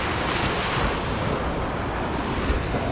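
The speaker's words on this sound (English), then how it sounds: "But look at the surf." Low, gentle surf washes onto a Florida beach, heard as a continuous, even wash of water with steady wind noise and no voices.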